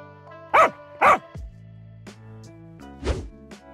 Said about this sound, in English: we're able to make our corgi bark